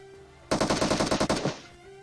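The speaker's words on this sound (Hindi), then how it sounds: "फिलहाल स्कूल की तरफ से अभी भी गन फाइट के साउंड आ रहे थे" Rapid bursts of automatic gunfire from a mobile battle royale gunfight, played on an iPad, roughly a dozen sharp reports in about a second, loud and close, with no talking.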